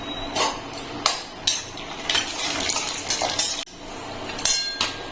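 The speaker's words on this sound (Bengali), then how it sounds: "বাদামগুলো একটু ভেজে নেবো প্রথমে।" Cashews and almonds frying in ghee in a wok, with repeated metallic clinks and scrapes of a spoon against the pan at an uneven rhythm over a low background hiss.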